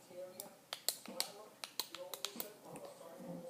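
A fidget cube button clicked repeatedly at close range: a quick series of small, crisp ticks at an uneven pace, quiet overall, with a voice speaking faintly around them.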